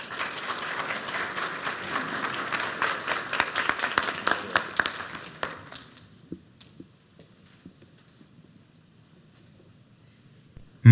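Audience applause welcoming dancers to the stage at a university regional arts and culture summit performance, a dense burst of clapping that fades out after about six seconds, leaving scattered claps and room noise.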